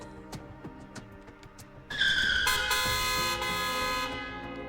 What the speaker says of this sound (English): the speeding car angrily honks while driving by